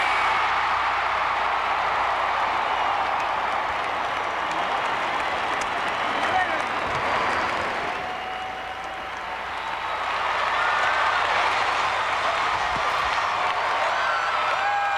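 Large arena crowd at the 1996 Olympic women's gymnastics team competition, sustained loud applause and screaming that dips briefly midway and then swells again, with commentators talking over it.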